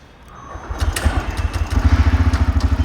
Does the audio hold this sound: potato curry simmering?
no